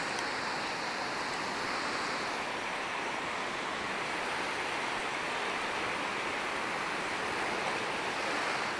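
Beach waves wash in a constant hiss and rumble of surf, steady and moderately loud with no distinct breaks and no voices.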